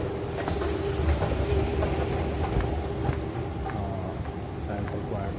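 A Dubai Metro train arrives at Centre Point station, rumbling and rattling steadily at moderate loudness with faint clickety-clack, while voices speak over it.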